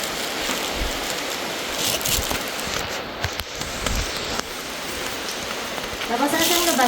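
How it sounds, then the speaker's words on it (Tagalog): Heavy rain pours steadily inside a cave area, a dense, loud hiss of water with splashing throughout, and a brief rushing surge near the end. "Kusog ng ulan."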